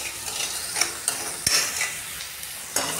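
Chopped onions being stirred and sautéed in a pan for a soybean bhaji, giving a soft steady sizzle with a few sharp scrapes and clicks of the spoon against the pan, fairly close and with no talking.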